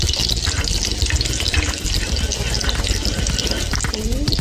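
Garlic sizzling in hot cooking oil in a pan, a steady loud hiss and crackle running continuously throughout, close up with no talk.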